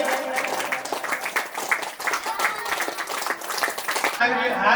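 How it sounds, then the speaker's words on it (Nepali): An audience at a temple kirtan group's annual honors program claps in a dense, lively burst that runs for several seconds. A voice speaks over the applause before the clapping tapers off at the end. "सम्मानका लागि सबैले ताली बजाइदिनु म हार्दिक अनुरोध गर्दछु"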